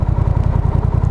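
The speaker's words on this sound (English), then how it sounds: "The other thing I like with this, the exhaust note." Honda Rebel 1100 cruiser motorcycle with stock exhaust cans, a loud, close, steady low-pitched idle pulsing in a fast even rhythm.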